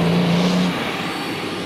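A car engine revs hard while driving along a rutted off-road track in the Carpathians, a dense loud roar with a brief steady tone that drops away.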